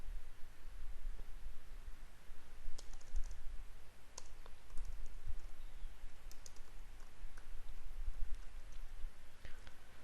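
Light clicking of computer keyboard keys while code is typed, soft and steady taps spread across the span against a faint hiss, no talking.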